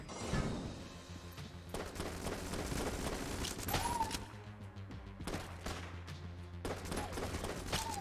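Rapid bursts of cartoonish gunfire from a weapon in the roguelike shooter Enter the Gungeon, firing in dense repeated volleys mixed with impact thuds and whooshes, fairly quiet overall.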